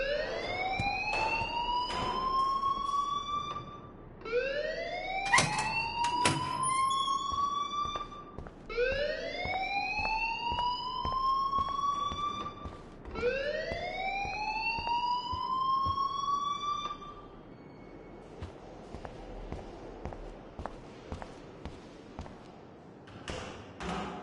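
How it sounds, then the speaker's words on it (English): An alarm in the video game Life is Strange wails in four long rising sweeps, each climbing and holding, loud and close, with sharp clicks and knocks between sweeps and a quieter tail at the end. "please turn off that alarm since that's your job."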